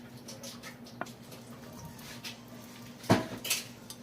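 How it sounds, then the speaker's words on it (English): Canned potatoes are dumped into a metal pot, giving a short burst of clattering thuds and metallic knocks. Smaller clinks and taps of utensils come before it in a quiet kitchen. "These are just canned potatoes that I'm going to be adding in here."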